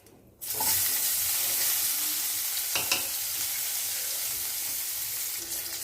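Mustard seeds, cumin and onion fry in oil in a pot for a one-pot lotus seed rice, giving a loud, steady sizzle that starts abruptly and holds throughout, with a few faint stirring knocks.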